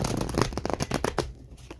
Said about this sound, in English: shuffle this up a little bit. I'm not the best shuffler